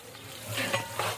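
Onions frying in a pan for palao, a soft close sizzle that swells into brief stirring scrapes, lasting only about a second with no talking.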